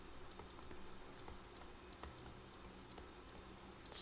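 Faint keystrokes on a computer keyboard tap out an irregular rhythm of soft clicks against a quiet background hum, with a louder click at the end.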